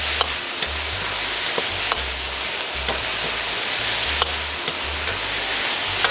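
Chicken with cashew nuts and vegetables stir-fried in a wok over a high flame: a loud, continuous sizzle with regular spatula scrapes and clanks, close up and without talk.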